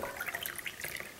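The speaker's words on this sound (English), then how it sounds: "these buckets of warm water, we dump it" Soapy water trickles and splashes into buckets of warm water, a steady pouring with small drips and bubbling, close and fairly soft, no voices, while mixing a septic drain field flush solution.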